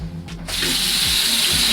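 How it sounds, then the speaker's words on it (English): A bathroom tap is opened and hot water runs into the sink, starting with a short gush and then settling into a steady, loud, close splashing stream. "Our water heater isn't the best here, so I do need to let the water run just like for a few minutes."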